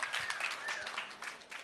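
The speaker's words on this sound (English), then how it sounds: "please, a round of applause for our panelists" Audience applause for panelists at a finance expo in Hong Kong, a brief burst of scattered clapping filling the room at steady loudness.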